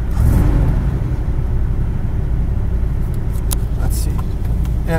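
A 1973 Chevrolet Corvette engine rumbles steadily at idle or low revs, deep and continuous, with some brief higher clicks and whirs on top.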